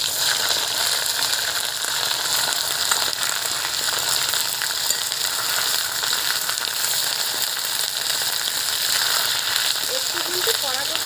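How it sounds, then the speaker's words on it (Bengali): Small puti fish coated in spice masala fry in hot oil with a steady, dense sizzle that runs unbroken and fairly loud throughout, with no voices. "মশলা মাছগুলো কিন্তু ভাজা হয়ে গেছে দেখুন একদম।"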